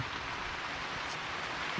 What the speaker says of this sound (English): And by the way, it's raining. Hurricane Idalia on its way.